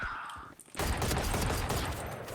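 Rapid gunfire in the video game Valorant, a dense burst of automatic shots starting abruptly after a quieter moment and continuing loudly to the end.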